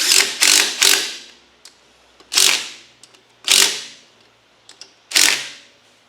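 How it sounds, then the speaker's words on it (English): Tightening a fan down onto a Kohler small-engine flywheel: several sharp, close mechanical clacks, a quick triple burst then three single hits spaced about a second apart, each with a short ringing decay. "And now we can tighten this down. That's going to hold the fan down to the flywheel."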